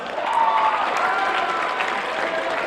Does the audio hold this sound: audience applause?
yes